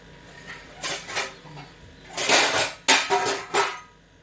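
Dishes and metal utensils are put away in a home kitchen in the morning, clattering and clanking in several loud bursts close by.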